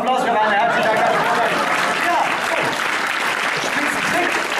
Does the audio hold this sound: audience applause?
yes